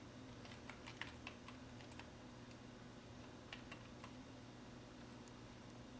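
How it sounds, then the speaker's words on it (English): Steady, rapid keystrokes on a computer keyboard, light clicking taps in an irregular rhythm, close and quiet over a low electrical hum with no speech. "and start typing."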